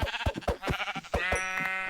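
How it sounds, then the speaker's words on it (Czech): Sheep bleating in the video game Minecraft, several short bleats in quick succession followed by a longer wavering bleat, close and clear with no talking. "Dobrý, našel jsem aspoň ovce."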